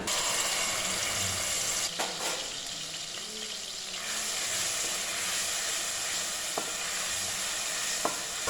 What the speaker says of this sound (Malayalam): എണ്ണ ഇപ്പോൾ ചൂടായിട്ടുണ്ട്. ഇതിലേക്ക് നമ്മളിപ്പോൾ അരച്ചില്ലേ ഇഞ്ചി, വെളുത്തുള്ളി, പെരിഞ്ജീരകം, കുരുമുളക്, അത് ഇതിലേക്ക് ചേർത്ത് കൊടുക്കാം.